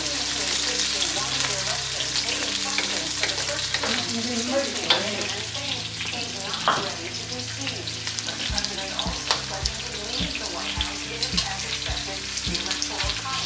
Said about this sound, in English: I'm just adding onions dong like big pieces, not really small. I'm gonna fry that for a little bit.